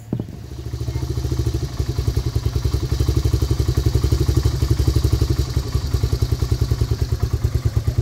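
Honda Big Red ATV engine idling low and rough after the carburetor was cleared, a steady close thumping putter with even rapid pulses throughout, no voices.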